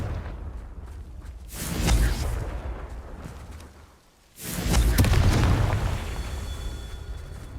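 Two heavy blasting-spell explosions go off in the Hogwarts Legacy game, each a deep booming burst with rumbling tail. The second comes after a brief near-silent gap and is louder and closer.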